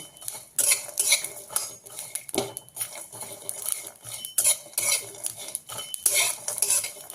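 Cumin and spices roasting dry in a pan for a spicy fish curry masala, with close, busy crackling and repeated scraping and stirring of a utensil against the pan throughout.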